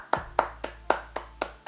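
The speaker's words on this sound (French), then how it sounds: "j'applaudis là." A single person clapping hands alone, seven sharp evenly spaced claps at a slow steady rhythm, close and distinct over a faint low hum.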